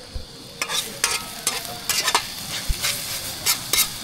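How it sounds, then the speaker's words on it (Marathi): Pomfret fish frying in a pan, giving a loud, close sizzle broken by sharp scrapes and clicks of a utensil, with no voices. "तर मंडळी पापलेटसुद्धा फ्राय करायला घेतलेले आहेत"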